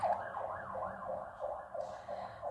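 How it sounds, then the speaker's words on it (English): A police car siren passing outside cycles up and down in a regular wailing loop, moderately faint and steady, with no voices over it. "That is like, we're bored, we're just going to drive around, honking our little horns."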